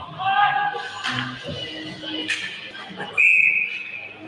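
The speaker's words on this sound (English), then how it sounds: "Linesman on the near side doesn't like what he saw, so whistled it dead." A linesman's whistle stops play in a youth bantam ice hockey game in a rink: a short, sharp whistle blast rises over crowd noise and an announcer's voice, with skating and arena rumble throughout.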